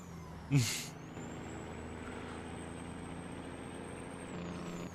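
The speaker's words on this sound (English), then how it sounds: "You just hear it wind up to 1900 RPM" A truck engine drones steadily with low harmonic hum, its pitch gradually rising as it strains and winds up to 1900 RPM, after a brief sharp hiss near the start.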